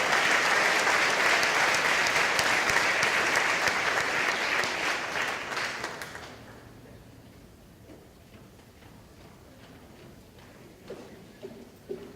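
Applause from an audience at a school valedictory ceremony, dense and sustained for about six seconds before fading out into scattered claps and quiet room noise.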